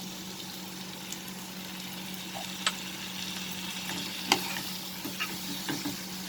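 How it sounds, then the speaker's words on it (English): Chicken and okra curry sizzles and fries steadily in a pan as vinegar goes in, with a few faint clinks and stirring scrapes over a low continuous hiss; no voices. "We will add the vinegar."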